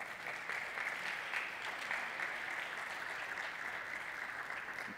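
An audience applauds at a panel on freight-transport digitalisation: a continuous, even wash of many hands clapping at moderate distance for about five seconds, with no talk.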